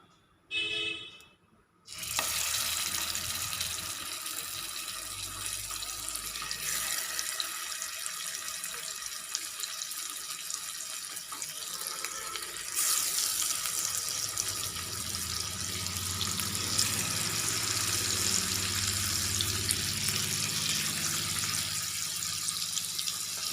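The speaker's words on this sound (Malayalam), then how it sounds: "ചൂടായി വരുമ്പോൾ നമുക്ക് ഈ പച്ചക്കായുടെ കഷ്ണങ്ങൾ ഓരോന്നായിട്ട് ഇട്ട് കൊടുക്കാം" Raw banana slices fry in hot coconut oil with a continuous broadband sizzle that starts abruptly after a brief opening noise, then runs steady and fairly loud, growing slightly fuller later on, with no voices.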